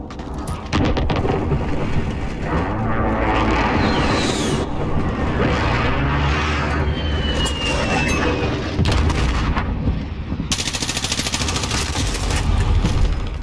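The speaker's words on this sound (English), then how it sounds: "Enemy precision airstrike inbound." Heavy, rumbling explosions from a precision airstrike roll through a modern first-person shooter free-for-all match while a VTOL circles, with booms overlapping into a continuous thunderous barrage and a sharper burst near the end.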